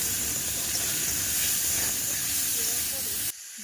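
Chopped onion, green chili and crushed ginger and garlic fry in a pan for homemade pasta, giving a loud, steady sizzling hiss that runs unbroken for a few seconds before cutting off abruptly.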